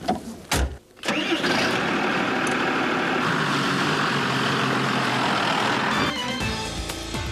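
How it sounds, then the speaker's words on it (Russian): A GAZ Tigr armored vehicle's engine cranks briefly, catches and roars up, then settles into a loud, steady idle close by before easing slightly lower at the end. "Давайте попробуем прокатиться на этой машине и посмотреть, что же это такое, наш русский «Тигр»."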